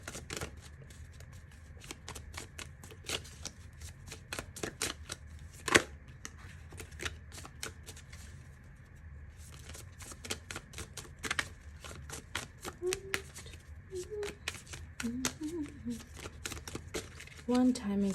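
A deck of tarot-style reading cards is shuffled close up in quick rapid bursts of crisp riffling and snapping, broken by short pauses, as a voice talks softly.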